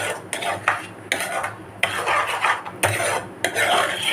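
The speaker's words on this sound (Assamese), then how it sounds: "এতিয়া ধুনীয়াকৈ মিলাই দিম" A spoon scrapes and stirs a suji mixture around a pan in repeated close strokes with brief pauses, a soft sizzle underneath.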